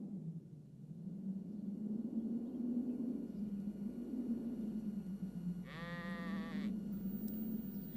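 A lamb gives one short, clear bleat partway through, set against a steady low rumble of background noise, with no voices alongside.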